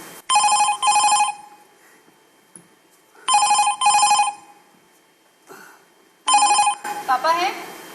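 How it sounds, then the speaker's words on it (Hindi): A telephone rings indoors in a domestic scene of a Hindi stage drama, sounding three separate double-burst electronic trills with quiet gaps between, followed by a voice talking briefly at the end. "फोन आ रहा है, मैं देखती हूँ"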